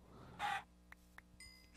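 Short clucking bursts from a chicken in a video game, with a few sharp clicks and a brief squawk over a quiet background.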